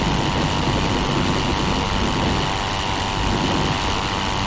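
Steady, droning engine of a Pfalz E.II monoplane rolling for takeoff in the Rise of Flight game, a continuous loud rumble that holds even throughout.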